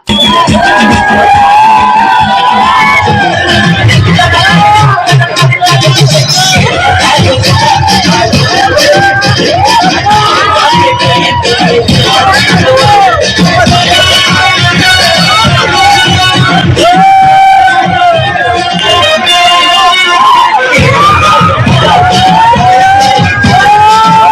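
A crowd of cricket players and supporters whoops and cheers loudly after a win at a journalists' premier league tournament in Jalgaon, the roar sustained and dense throughout with overlapping shouts.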